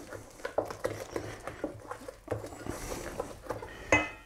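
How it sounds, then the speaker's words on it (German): Hummus with tahini being stirred after salt is added, producing close, irregular thick scraping and tapping of a spoon against a bowl, with a sharper knock near the end. "Nochmal ein bisschen umrühren."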